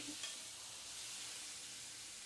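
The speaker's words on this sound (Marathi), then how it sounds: "कांदा टमॅटो चांगला परतून घ्यायचा तेलात, लालसर रंग येईपर्यंत" Onion and tomato sautéing in hot oil in a pan, a soft steady sizzle with a brief stir near the start, quiet and close.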